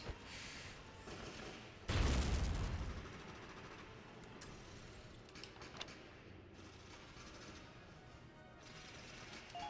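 A grenade blast against a super train in a turn-based video game, one heavy booming explosion near the start that rumbles and fades, followed by quieter clatter and scattered impacts.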